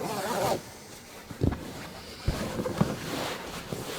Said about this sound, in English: so we can zip that back up